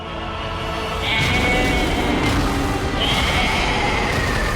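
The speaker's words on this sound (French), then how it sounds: "le bruit de mouton" Sheep bleating during a French reaction to the anime Overlord season 3 finale, with two drawn-out cries over a loud, busy mix of music and effects.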